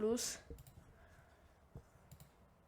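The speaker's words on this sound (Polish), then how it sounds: "Klikamy tutaj USB HDD+." Computer mouse clicks while selecting USB HDD+ in a bootable USB drive tool: a couple of soft, close, sharp clicks spaced apart after a brief burst of other sound at the start, with a quiet room behind.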